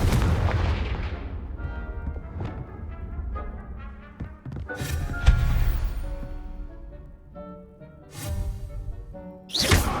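Confringo spell blasts from the video game Hogwarts Legacy: several sharp booming bursts rise above steady game music, with the loudest blasts landing in the second half.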